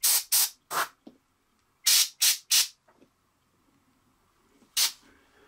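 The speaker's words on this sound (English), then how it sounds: "See how once you get the airbrush on there, it really comes to life." An airbrush sprays paint onto a miniature tabletop figure in short, sharp hissing bursts, three quick ones, then three more, then a single later puff, close and fairly loud with quiet gaps between.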